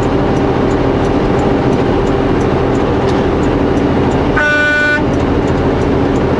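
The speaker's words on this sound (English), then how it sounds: "I always use the air horn to synchronize the two videos." A single loud air horn blast, about half a second long, cuts through a steady engine rumble.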